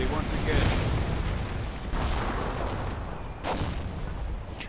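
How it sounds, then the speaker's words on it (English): Rocket barrage with explosions in a WWII strategy video game: dense rumbling booms and bursts of fire roll on through the whole stretch, with several sharper blasts standing out, and a voice talks over the din. "Rockets unleashed."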